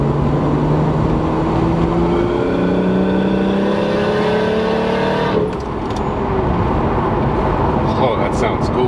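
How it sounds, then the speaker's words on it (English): Turbocharged Lexus IS300 fitted with a CX Racing turbo kit, its engine revving up with rising then falling tone for several seconds before easing to idle, close by, with someone talking over it. "Give it a little gas here, see what it sounds like."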